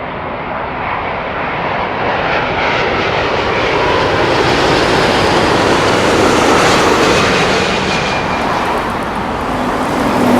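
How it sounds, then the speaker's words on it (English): A Virgin Atlantic Airbus A350 arriving from Miami at London Heathrow, a loud, sustained jet roar that swells and slowly fades as it passes close by. "It's the Virgin Atlantic A350. Arriving in from Miami."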